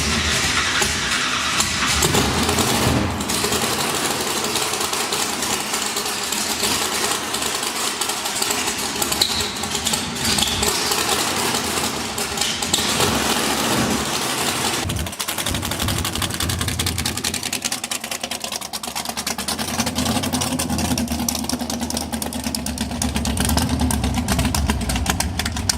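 Car engine running on E85 fuel on a dyno at its first startup, a loud, steady rumbling idle with revving that fills the whole stretch without talk.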